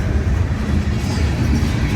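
A CSX heritage B&O locomotive train rolls past at speed without braking, a loud, close, continuous rumble and roar that holds steady throughout.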